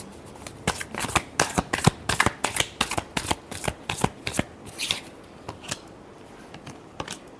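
Tarot cards are riffled and shuffled by hand in a quick run of crisp, papery flicks and snaps, close and clear, with no talking over them.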